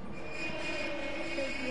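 Train in the video game Fortnite rolling past with a continuous rumbling roar and thin squealing wheel tones, moderately loud and steady.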